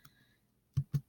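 Three firm, close keystrokes on a computer keyboard while a website address is typed in, coming after a short quiet stretch with a faint electronic tone near the start.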